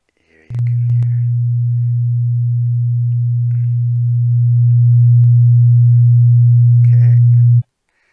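Steady synthesized oscillator tone generated in MuX, a pure low hum that holds at constant pitch for about seven seconds and swells slightly louder midway before stopping cleanly, with faint clicks at the start and end.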